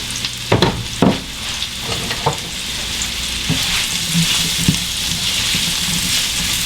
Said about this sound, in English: I'm going to coat them in the oil. Let them cook with the lid on, stir, cook with the lid on, stir, and then take the lid off.